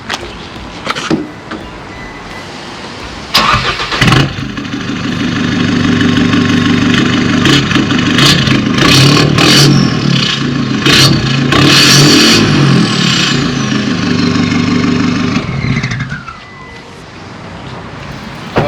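An All-New Isuzu X-Series Cab4 pickup with an aftermarket exhaust cranks and fires up about three seconds in, then runs loud and close with a steady idle and swelling revs before settling, with no talking.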